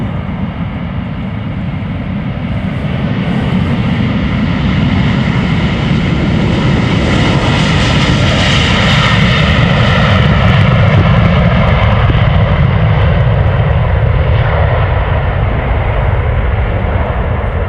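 A KLM Airbus A330-300 departs Amsterdam Schiphol with a loud, close, sustained jet engine roar that swells and fills the whole stretch without letup.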